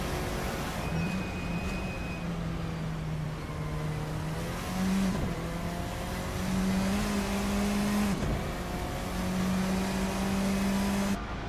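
Simulated Formula 4 race car engine at Bathurst in Assetto Corsa, droning steadily with rising and falling pitch as it accelerates through gears and brakes into corners, loud and continuous throughout.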